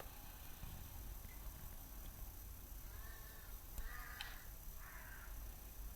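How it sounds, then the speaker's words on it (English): A few faint, distant crow caws sound over a steady background hum, arriving in short bursts near the end. "Sounds like crows are out there."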